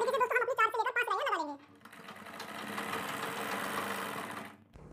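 A sewing machine runs a continuous stitching pass on a kurti neckline, a steady mechanical whir heard close after a short stretch of talking at the start.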